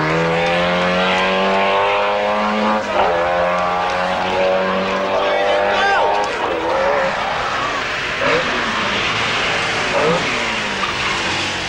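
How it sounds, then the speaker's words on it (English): Triumph TR7 rally car at speed on the Manx stage of the 1980 British Open Rally Championship, engine note rising and falling through gear changes with tyre skids, loud and close under continuous commentary. "Pond in the mighty TR7 dominates the Manx"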